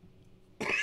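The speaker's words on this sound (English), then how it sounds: "I'm not sick, but I got a cough." A single sharp, loud cough bursts in near the end after a quiet stretch, close to the microphone during a live stream.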